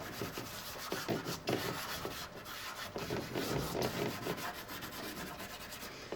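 Pastel is rubbed into paper for a portrait of a girl's face, making soft, close, repeated scratchy strokes in an uneven rhythm that continues throughout, with no talk.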